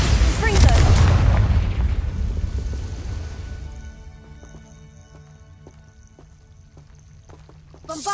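A magical spell explosion from the Hogwarts Legacy video game opens with a loud, deep boom, then a rumbling decay fades out over several seconds, and a sharper hit arrives at the very end.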